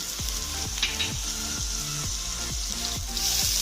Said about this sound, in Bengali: তেল গরম হয়ে গেছে আমি ওতে একটু কালো জিরে দিলাম রসুন কুচি